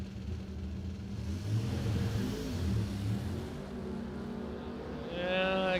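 A 1988 Pontiac drag car at the starting line of a drag racing event rumbles with a low, uneven engine note as the throttle is worked in and out. A rising whine enters toward the end, heard at a distance.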